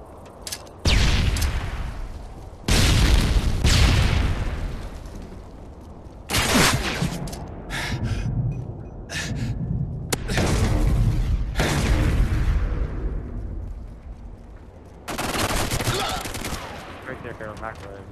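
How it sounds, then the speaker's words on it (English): In a capture-the-flag video game match on a scrapyard map, a stun grenade blast goes off amid repeated loud bursts of gunfire, several rattling volleys with pauses between them, mixed with voice chatter. "Throwing stun grenade."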